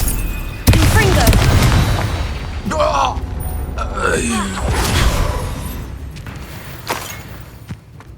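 A Confringo fire blast spell bursts in Hogwarts Legacy, a loud, close booming crackle with rumbling impacts and fiery whooshes, heard under a voice calling out spell names.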